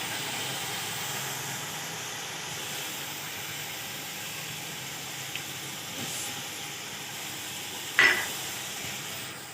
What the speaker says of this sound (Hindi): अब इसको अच्छे से अदरक लहसुन के साथ फ्राई कर लेंगे